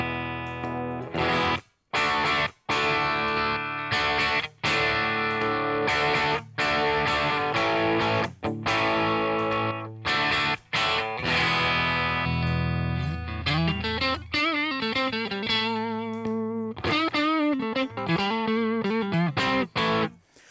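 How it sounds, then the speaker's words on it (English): Electric guitar played through a NUX amp, loud and distorted, with sustained chords and short choppy stops, then a switch to a swirling, modulated tone as a foot switch toggles between two sounds. "what that does is it gives you two different tones that you can play with on one foot switch"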